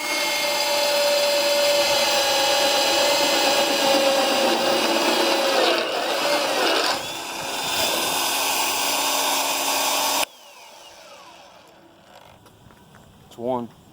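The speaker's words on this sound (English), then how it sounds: "So now we're ready to get the mag drill out, lower this frame down a little bit, and start drilling holes." Magnetic drill boring holes in the steel frame of a 2006 International 4300 truck: a loud, steady grinding whine for about ten seconds, then quieter shop noise with a short scrape near the end.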